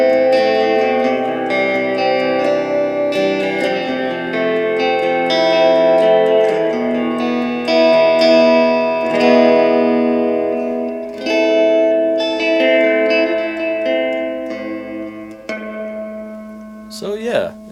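An electric guitar rings through a Peavey Blazer practice amp with a modded spring reverb tank turned all the way up, chords and notes washing into long, lush reverb tails, ending with a brief splashy spring crash.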